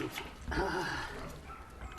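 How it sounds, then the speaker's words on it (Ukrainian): A dog brought for a rabies vaccination in a Ukrainian village gives a brief, close whine or yelp, with faint background voices around it. "Злая собака."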